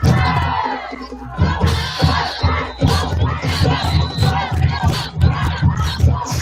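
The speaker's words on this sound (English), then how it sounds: "Hear the band and the cheerleaders cheering on these Wolves." At a high school varsity football game, the crowd and cheerleaders chant and yell in loud, rhythmic bursts, a dense mass of voices rising and falling in repeated shouted cheers.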